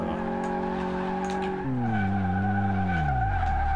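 Car tires skidding under braking in Car Mechanic Simulator 2018 on a race circuit, a loud sustained squeal with an engine tone dropping in pitch as the car slows.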